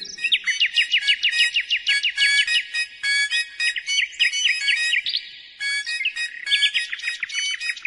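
A nightingale sings in a loud, close series of rapid trilling and whistled phrases, broken by brief pauses, with the mechanical bird's tune heard alongside it in an audio fairy tale. No one talks.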